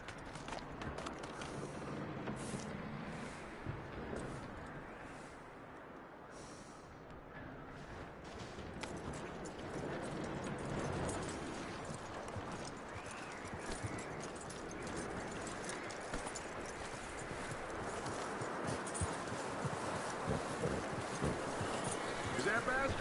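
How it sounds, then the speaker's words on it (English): Horse hooves clip-clop in a steady trotting rhythm in a video game, faint and mixed with ambient game sounds, while voices speak over them. "That looks like a decent horse."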